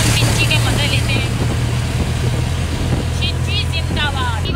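A motor rickshaw (chinchi) engine drones loudly and steadily throughout the ride, with a constant low hum, while voices chatter over it.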